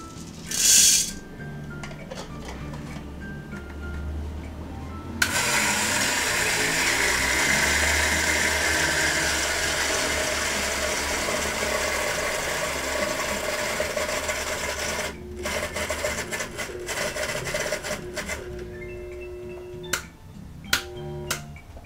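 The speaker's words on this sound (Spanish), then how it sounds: "Lo molemos en una molienda media fina." An electric grinder grinds coffee to a medium-fine consistency, giving a steady, close, gritty whirr for about ten seconds before it cuts off. Scattered clicks and light handling noises follow.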